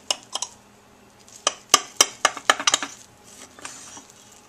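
A knife slices through freshly baked banana nut bread, out of the oven after about an hour and fifteen minutes at 325, in a home kitchen. Sharp, irregular clicks and scrapes come close up, clustered in the middle, with no talking.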